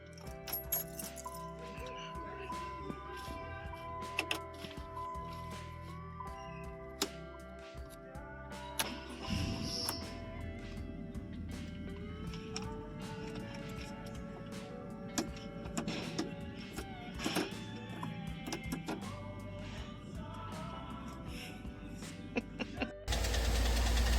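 A Hyundai car engine with holes in the block cranks and knocks unevenly, with mechanical clicks and whirs throughout and a louder burst at the very end.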